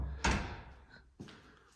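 An indoor door is pushed open in a quiet house during a ghost-hunting walk-through, giving a single loud thump, a fading rattle, then a second softer knock a second later.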